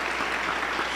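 A church congregation at a Pentecostal service applauds in a brief, even burst of dense clapping, close and steady for about a second with no speech.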